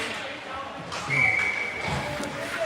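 A referee's whistle sounds during a college ice hockey game in an arena, one sustained shrill blast heard over crowd noise and commentary.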